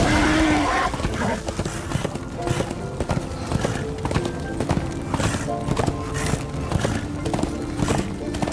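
Hooves of a ridden horse beat a steady clip-clop through open country in a video game, the rhythm running evenly and fairly loud from start to finish under a faint game backdrop.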